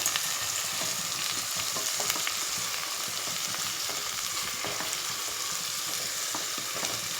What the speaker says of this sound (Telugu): ఈ ఎండ్రాయిలు కొంచెం ఆయిల్లో ఫ్రై అయితే బాగుంటాయి అన్నమాట